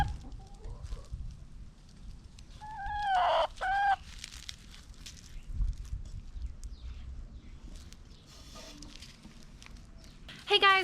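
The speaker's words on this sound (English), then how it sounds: "Chickens! Chickens underfoot." Backyard chickens cluck close by in short bursts, with several sharp, rising squawks among scattered low clucks and quieter rustling, in a West Texas garden.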